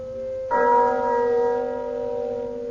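A church bell strikes once to mark the quarter hour, a resonant ringing tone that lingers and slowly fades, part of a radio drama adaptation of A Christmas Carol from 1965.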